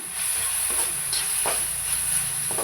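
Vinegar hissing and sizzling as it hits fried ginger-garlic paste in a hot pan for street-style egg noodles, a steady loud hiss with a few brief bursts of spattering, no voices.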